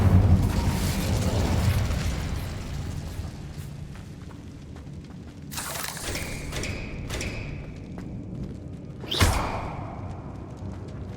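Fire spells flung in Hogwarts Legacy, heard as several sharp bursting hits and thuds, the last one a distinct crack, over a steady low rumble of game ambience without speech.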